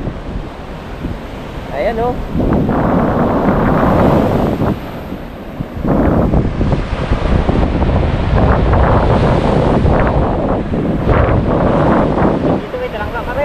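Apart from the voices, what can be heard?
ocean waves crashing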